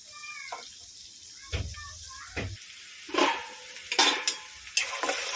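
Onion and green chillies are stirred in a pan for a small-fish curry, with scraping strokes and soft sizzling bursts spaced a second or so apart, after a cat-like meowing cry early on.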